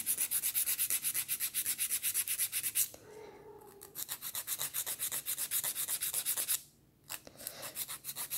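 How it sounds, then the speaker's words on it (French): A nail file rubs flat across a cracked fingernail in quick, even back-and-forth strokes, close and fairly soft, with two brief pauses between runs of filing. "donc là je fais vraiment un limage à plat"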